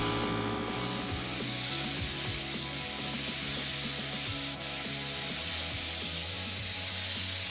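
Brush or roller strokes applied by hand to a truck camper's exterior while it is being repainted, a steady continuous rubbing, scraping texture that carries on without pause under fairly loud broadband hiss.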